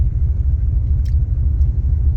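A 1976 Chevrolet El Camino rolls into a local car wash on a cold day, its engine giving a steady, close, low rumble with no talking.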